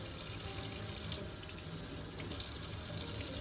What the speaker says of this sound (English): I'm just gonna rinse everything quickly.